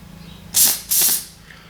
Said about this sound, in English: Spray a bit of cleaner through that.